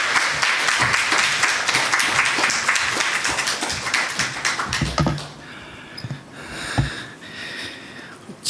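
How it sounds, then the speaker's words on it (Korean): A church congregation at a Wednesday service at Dongtan Dream Church claps for an arriving pastor, brisk close-up applause that gradually thins into scattered claps and taps before fading. "하나님께 감사의 박수 올려드리면서 목사님 모시도록 하겠습니다"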